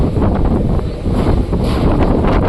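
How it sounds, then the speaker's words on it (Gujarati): A strong wind on the Pavagadh hilltop roars loud and steady against the microphone, with a dense, unbroken rumble and no voices. "કેટલો જોરદાર પવન ફૂંકાય છે"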